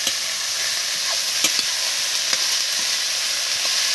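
Bitter gourd and potato are stirred in a hot frying pan, giving a steady close sizzle with a few sharp spatula scrapes against the pan.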